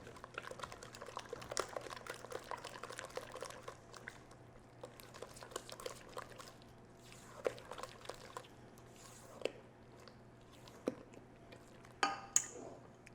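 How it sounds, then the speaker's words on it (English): Kugel ingredients get stirred together in a bowl, soft wet clicks and scrapes in an irregular rhythm, quiet and close, with a few sharper knocks near the end. "now we're just going to mix all our ingredients up together"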